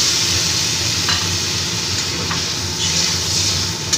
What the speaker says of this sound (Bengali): এবার পরিমাণ মতন আমি জল দিয়ে দিচ্ছি